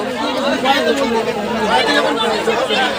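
Dense crowd chatter fills a packed train bound for the Maha Kumbh Mela at Prayagraj, many overlapping voices close and loud, holding steady throughout.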